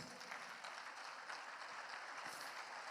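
Dense applause from a church congregation, a steady wash of clapping that stays even for a few seconds.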